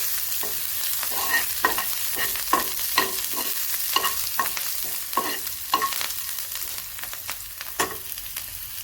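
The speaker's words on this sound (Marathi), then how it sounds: "आता ह्या गरम पॅन मध्येच आपण याला थोडंसं असं परतून घेणार आहे." A spatula scrapes and clatters rhythmically against a hot pan over a soft background sizzle, stirring a tempering of spices and coriander stems before fried soybean chunks go in, with repeated stirring strokes and no voices.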